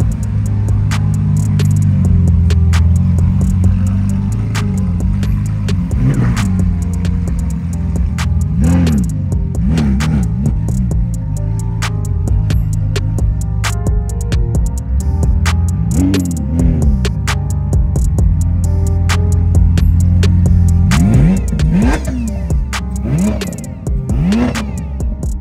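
A Lamborghini Aventador LP700-4 engine revs and accelerates at close range as it drives away, rising and falling through several gear pulls, loud and continuous throughout.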